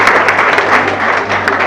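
A crowd at a popular running-race ceremony gives loud, sustained applause, a dense, even roar of many clapping hands heard close and without pause.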